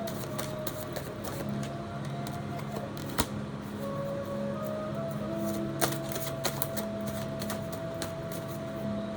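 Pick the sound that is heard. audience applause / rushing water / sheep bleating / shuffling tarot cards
shuffling tarot cards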